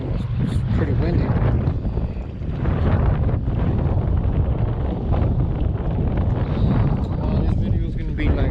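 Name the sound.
wind at a jetty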